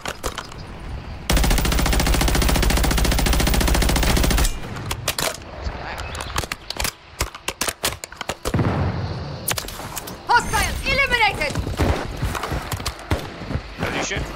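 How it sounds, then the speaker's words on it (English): Automatic gunfire from a battle royale game rattles loudly in a sustained rapid burst, followed by scattered single shots and further bursts, with players talking over it. "That's me shooting"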